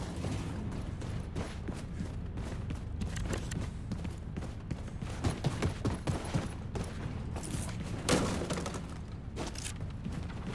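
Rapid gunfire crackles through a firefight in Wolfenstein II: The New Colossus. Dense bursts of shots run throughout amid other game noise, with one louder blast standing out near the end.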